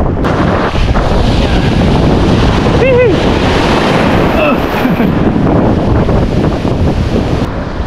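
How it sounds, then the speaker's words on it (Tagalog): Sea waves surging around a small fishing boat out on the water, a loud continuous wash of surf with heavy wind buffeting the microphone and a brief whistle-like cry partway through. "Nakakatakot dito ang alon guys."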